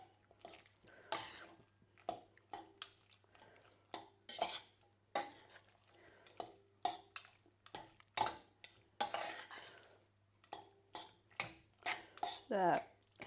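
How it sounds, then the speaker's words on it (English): Vegan Alfredo sauce being stirred in a pan, a spoon scraping and clinking against the metal in a steady series of close, short strokes, with a low constant hum underneath. "So I mixed all that through."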